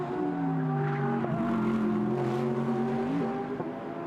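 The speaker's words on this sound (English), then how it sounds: "Over the big bump there, you can hear the tyres squealing, almost like a indoor karting track." GT race car at speed on a circuit in Beijing, engine droning with shifting pitch as the tyres squeal over a big bump, loud and close with no talk.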